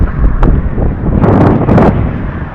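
Strong wind on the Vereda do Risco trail in Madeira buffets the microphone in loud, rough gusts, with low rumbling bursts throughout.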